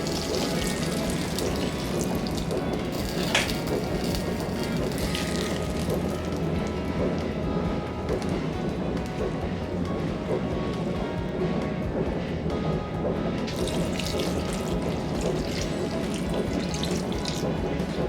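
Water poured into ragi dosa batter and stirred in, a steady close splashing and swishing that runs throughout with brief brighter splashes, no voices.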